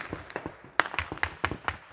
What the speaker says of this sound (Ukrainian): Чуєте? Свіст куль.